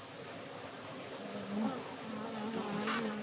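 Honeybees buzz steadily on top of a hive while a queen moves among them, a continuous close hum with a fainter drone underneath and a slight swell partway through.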